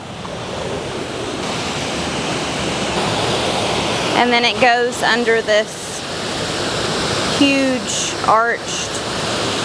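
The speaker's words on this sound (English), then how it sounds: "That's the waterfall." Waterfall near Lake Bailey in Petit Jean State Park, Arkansas, with water flowing under a large arched stone bridge. A steady, loud rushing roar runs throughout, and a few spoken words come in over it partway through.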